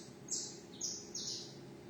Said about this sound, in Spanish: oyendo los pajaritos